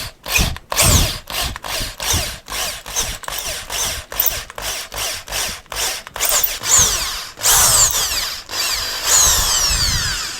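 A 6.5mm drill bores through aluminium tubing in a run of short, loud bursts separated by brief pauses, with whining motor and cutting noise close up and no talking.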